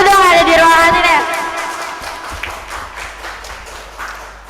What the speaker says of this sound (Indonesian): Tepuk tangan lu dong ada di ruangan ini ya.